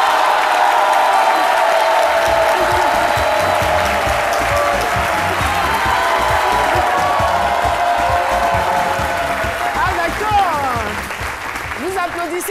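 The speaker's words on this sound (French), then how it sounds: "Applaudissez très fort parce que vous savez qui est là." Studio audience on a French-language television talk show breaks into loud, sustained applause with scattered cheers and whoops, the dense clapping holding steady for about ten seconds before thinning out.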